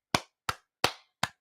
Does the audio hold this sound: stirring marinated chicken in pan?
no